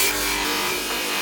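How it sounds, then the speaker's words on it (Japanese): Handcrafted souvenir being polished at a large Cairo market in Egypt, a steady abrasive rubbing and grinding sound, loud and close, continuous for about a second with no speech. "最後に研磨をして終了である。"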